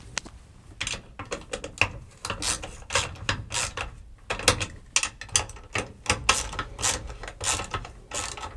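A ratchet tightens mounting nuts during a race car ignition install, clicking close by in quick, irregular bursts with short pauses between strokes.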